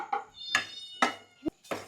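A cat meows several times in short separate calls, close by, with brief pauses between each cry.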